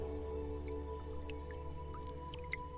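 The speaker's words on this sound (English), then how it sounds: "replenished constantly with dripping water seeping in through the roof" Water drips from a cave roof into a shallow pool in scattered, irregular plinks over a steady humming drone, with no voices.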